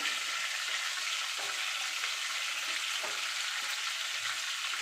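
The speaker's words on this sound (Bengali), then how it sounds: "একটা শুকনো লঙ্কা ফোড়নটা একটু ভাজা ভাজা করে নেবো" Bay leaves and a dried red chili frying in hot oil as a tempering, giving a steady, close, even sizzle and crackle with no pauses and no voices.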